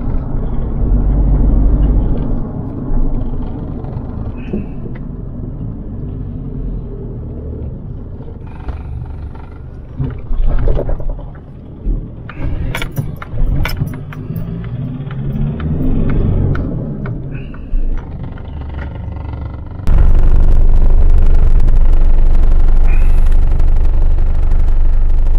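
Ford Ranger with a 3.0 diesel engine, hard to start and blowing black smoke, idling with a steady low rumble, then revved in bursts before settling back to a loud idle; no voices.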